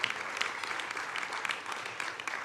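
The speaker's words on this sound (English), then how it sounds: "give Mike a huge round of applause" A crowd applauding steadily, dense clapping that stays even and sustained from start to end, with no voices standing out.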